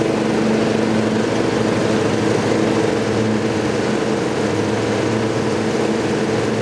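A compact lawn tractor mows with its blade engaged and the engine revved up, giving a loud, constant drone with a steady low hum and no talk.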